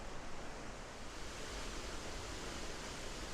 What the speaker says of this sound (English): right here is the waterfall, and it is really, really flowing.